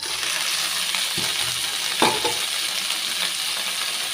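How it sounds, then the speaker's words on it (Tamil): Coriander and curry leaves fry in a kadai with a steady, close hiss of oil, and a couple of brief metallic knocks from a stirring utensil mark the middle. "கொத்தமல்லியும் கருவேப்பிலையும் நல்லா வதங்கிருச்சு"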